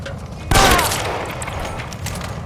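A sharp burst of gunfire cracks out suddenly in the crime video game L.A. Noire, followed by a ringing decay and lighter scattered shots amid background noise.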